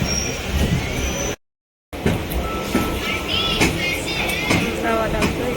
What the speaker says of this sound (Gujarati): અમારી ટ્રેન હવે જઈ રહી છે